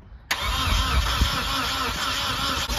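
An engine cranks steadily without catching, its starter churning in a loud, continuous rhythmic grind that starts abruptly and runs for a few seconds, with no ignition and no speech.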